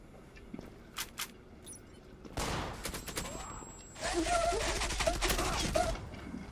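Bursts of automatic gunfire in the online shooter Zula, a few sharp shots early, then sustained rapid volleys that grow louder and denser, loud and close.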